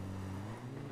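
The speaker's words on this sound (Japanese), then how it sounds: "なんか右で 車の音がする。" A low, steady car engine hum in PUBG Mobile, faint and unchanging for the whole moment, with no speech over it.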